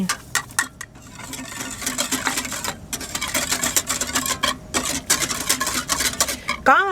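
A spoon stirs pandan cup cake batter in a bowl with salt and sugar, giving quick repeated scraping and clinking strokes that sometimes come in rapid bursts, close and fairly loud, with no talk over them.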